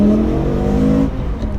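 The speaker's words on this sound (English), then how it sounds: "this car has an Akrapovic slip-on, which just enhances that V10 sound." A BMW E92 M3 swapped with an S85 V10 and fitted with an Akrapovic slip-on exhaust drones loudly and close with a steady, smooth engine tone that eases off near the end.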